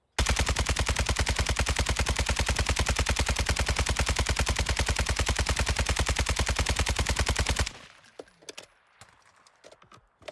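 An RPK light machine gun fitted with the Basilisk fires in Warzone 2, one long sustained fully automatic burst with rapid, even shots for about seven and a half seconds, then stops, leaving faint clicks and a few scattered sounds.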